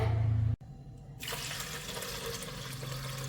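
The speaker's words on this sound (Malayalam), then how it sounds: "നമുക്ക് കുറച്ച് കുക്കറിൽ വെള്ളം ഒഴിച്ചു കൊടുക്കാം" Water poured into a pressure cooker in a kitchen, a steady close splashing stream that begins just after a loud hum cuts out, continuing evenly to the end.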